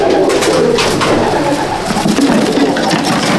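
Old-breed Madrasi pigeons let go by hand, a dense continuous flurry of wing flapping and soft cooing close by, steady and fairly loud throughout.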